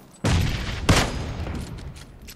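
KAR98 bolt-action rifle shots in PUBG Mobile, two sharp loud blasts about half a second apart, each trailing into a rumbling echo.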